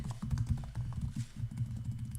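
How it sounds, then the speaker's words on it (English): Computer keyboard typing comes as rapid, uneven clusters of close, soft clicks that run continuously without pause. "Typing at light speed."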